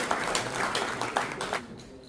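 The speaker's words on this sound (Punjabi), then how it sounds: "ਉਹਨਾਂ ਨੇ ਇੱਕ ਵਾਰੀ ਤਾੜੀ ਹੋਣੀ ਚਾਹੀਦੀ ਹੈ" Audience applause at a live Punjabi stage play: a short burst of clapping in several loud surges that fades toward the end, with no voices over it.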